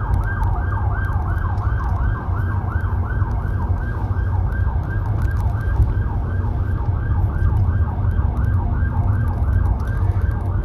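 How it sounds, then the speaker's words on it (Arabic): Two ambulances pass in the streets of Tangier with sirens wailing in a fast, repeating up-and-down sweep, loud and close over steady traffic rumble for the whole stretch. "جوج ديال سيارات الإسعاف"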